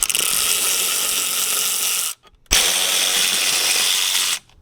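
Big Snap-on impact gun on a short wobbly extension and a long extension, working under a Lexus IS300 during a manual transmission swap: two loud sustained rattling bursts, about two seconds each, separated by a brief pause, close and alone.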